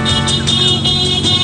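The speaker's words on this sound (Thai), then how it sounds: "เสียงรถ" A car engine runs steadily up close, a low continuous rumble with a faint high whine over it throughout.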